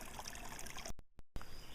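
Spring water trickles out of the ground at an old tub mill site, a faint, steady watery wash that cuts out briefly with two short dropouts before resuming.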